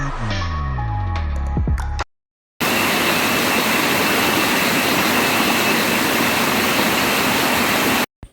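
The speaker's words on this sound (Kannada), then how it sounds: "ಕೇಳಿಸ್ಕೊಂಡ್ರ ನೀರು ಸೌಂಡ್ ಹೇಗಿದೆ" Steady, loud rushing of flowing water near Sringeri fills most of the stretch, a dense unbroken roar after a short burst of tonal music and a brief silence, then cuts off abruptly near the end.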